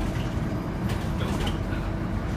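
Riding on a bus, a loud, steady low engine rumble with faint clicks and rattles above it.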